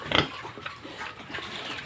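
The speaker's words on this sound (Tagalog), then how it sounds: "So ito yung baboy natin dito" A farm pig gives one loud, close grunt, then a few softer snuffling grunts over faint barnyard background noise.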